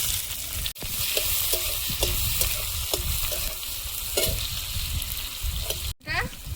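Onion, potato, taro and bay leaf frying in a pan with five-spice tempering and dried chilli, a loud, dense, continuous sizzle with stirring scrapes and a couple of sharp knocks, up close.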